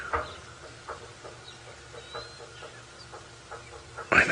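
Small birds chirp at a distance during an early-morning safari drive, with short scattered calls over a quiet open background and a louder sound near the end.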